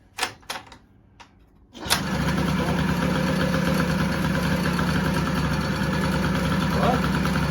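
A 1982 Honda Melody scooter with fuel system problems: a few sharp clicks and knocks, then the small engine catches and settles into a steady, loud, even idle that runs on alone.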